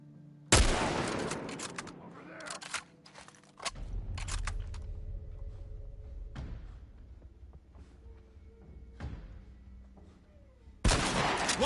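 Rifle gunfire in The Last of Us Part 1: several loud, sharp shots in quick bursts, separated by pauses and scattered impacts, with a heavy echoing report at the start and end.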